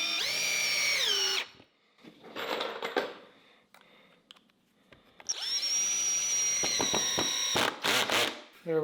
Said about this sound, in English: put our screws in. Tighten them down all the way yet.